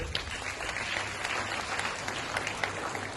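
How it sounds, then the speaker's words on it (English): An audience at a school cultural programme claps steadily, a close, moderately loud patter of many hands with scattered sharper claps standing out, continuing without talk. "A big round of applause for them also."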